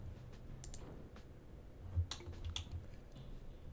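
Keys on a computer keyboard pressed while playing a game, sparse light clicks scattered across the moment, close but quiet, with no one talking.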